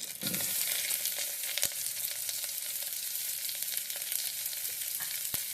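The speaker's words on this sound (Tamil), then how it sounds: "இப்போ நல்லா வதக்கி விடுங்க." Sliced large onions for foxtail millet pulao sauté in hot oil with a bright, continuous sizzle. A few sharp clicks from a spatula on the pan break through it, and there is no talking.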